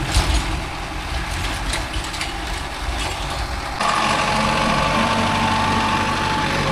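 A Mahindra Arjun Novo 605 DI tractor engine runs loud and steady with a rough mechanical drone, stepping up slightly in intensity partway through, with no voices.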